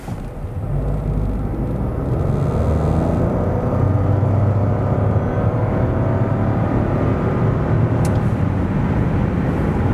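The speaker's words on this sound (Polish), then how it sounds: "tak samochód przyspieszy od 0 do setki" Steady engine and road noise from a 2026 Nissan Qashqai e-Power hybrid with a 1.5-litre, 190 hp powertrain accelerating hard, a continuous loud drone heard from inside the cabin with no talking.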